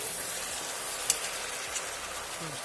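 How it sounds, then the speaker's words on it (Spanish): Soft, steady bubbling and faint sizzling from a pot of potato and pork rib stew simmering with wine, quiet and continuous, with a couple of small clinks. "ya ha hervido un par de minutitos, ya está haciendo ahí el burbujeo abajo con el vino"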